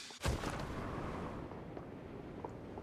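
Gunfire in the mobile battle royale game PUBG Mobile: a sharp close blast followed by a dense, sustained roar of shots and rumble, loud and without talk.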